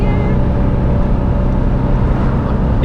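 Dotty, an air-cooled Citroen 2CV, drives along behind slow traffic with its small engine running loud and buzzy at high revs, a constant close drone inside the car.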